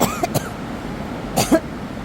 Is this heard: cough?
yes